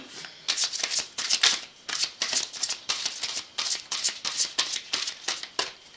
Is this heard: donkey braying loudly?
no